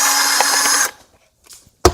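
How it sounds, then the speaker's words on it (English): A power drill backs out a screw from a holster, a loud close whir for almost a second that then stops. A short quiet follows, and a sharp knock comes at the end. "I just put a drill on there and just put my finger on the base there to keep it from spinning"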